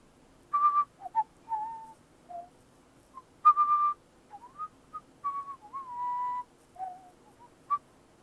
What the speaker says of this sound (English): You can now hear a person whistling.